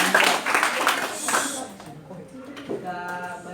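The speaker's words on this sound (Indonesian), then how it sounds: "tepuk tangan." Clapping from a classroom audience at a student peer-teaching session, a dense burst of applause for about a second and a half that fades as a voice talks over it.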